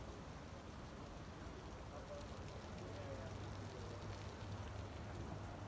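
Sudden rain pours on a hill in Bohol, Philippines, a steady even hiss of rainfall with a low hum underneath, constant throughout and without clear speech.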